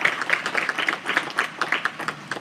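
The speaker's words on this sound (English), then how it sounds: "So if we can just give a round of applause for that." Applause from an audience of roughly 100 to 150 people at a wedding and event awards ceremony, a light, quick patter of clapping that runs steadily for the whole stretch at moderate distance.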